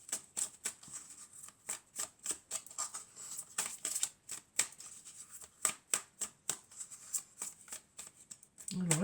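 Tarot cards are shuffled and drawn in a general weekly reading, giving a rapid train of crisp, close card slaps and riffles in a fairly regular rhythm, with a soft voice faintly underneath.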